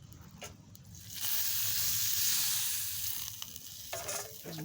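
Butter sizzles loudly in a hot pan before Philly steak goes in, a steady bright frying hiss that swells after the first second and holds with small crackles.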